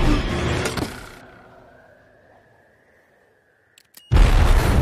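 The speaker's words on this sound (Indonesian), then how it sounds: "ia menggunakan anak panah canggih yang bisa meledak secara delay" An exploding arrow goes off after a delay: a burst of noise fades into a thin rising whine and near silence, then a sudden loud, close detonation.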